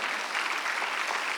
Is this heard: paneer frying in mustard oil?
no